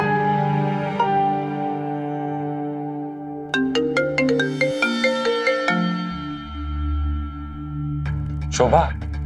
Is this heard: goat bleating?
no